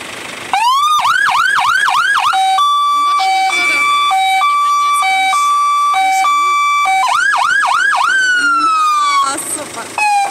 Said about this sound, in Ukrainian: Вłączymy ще раз сигнали.